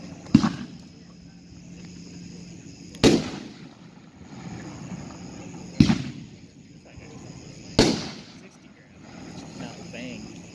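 A 12-shot, 500-gram Cutting Edge Bulletproof firework cake, heard as four sharp distant launch thumps spaced a few seconds apart, with faint crackle and murmuring voices between the shots.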